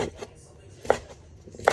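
Pork is chopped with a knife on a cutting board in a kitchen, giving two or three sharp, separate thwacks against a quiet background.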